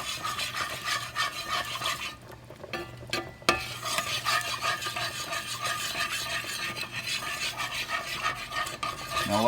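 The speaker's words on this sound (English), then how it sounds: "You want to stir this around really good." A utensil stirs a roux of flour and chicken broth in an iron skillet, with steady scraping and rubbing against the pan and a faint sizzle. The stirring runs continuously with one short pause and no talking.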